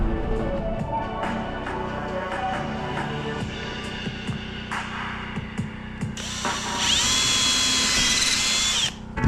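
A power drill drives bolts into a shop wall, whirring close and loud in bursts, with a sustained high-pitched run near the end and some light knocks and rubbing between.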